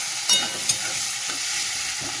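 Chopped onion fries in hot oil toward browning, giving a close, steady sizzle broken by a couple of sharp spatula knocks and scrapes.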